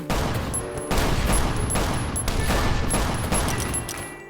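Gunfire in the mobile game Last Island of Survival, with rapid bursts of shots cracking loudly and close, spaced across a few seconds alongside sharp electronic tones.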